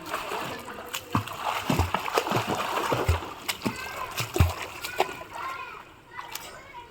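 Repeated splashes from a child swimming in a pool during a lesson, irregular bursts of water close by, with a voice and adult speech throughout.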